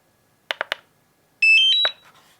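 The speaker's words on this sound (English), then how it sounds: "a little beep tells you it's on" Three quick clicks followed by a short rising electronic chime of several tones, crisp and close in an otherwise quiet room, from a DJI Mavic Air 2 drone remote controller powering on.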